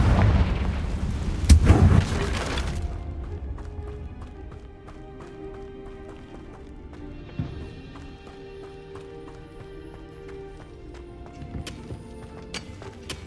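A Confringo fire spell blast from Hogwarts Legacy bursts loud and broad for about two seconds at the start, then gives way to quieter game ambience and scattered small effects.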